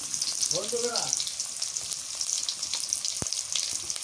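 Onions sizzling and frying in hot oil make a steady, close crackle throughout, with a brief whistle-like tone and a sharp clink partway through.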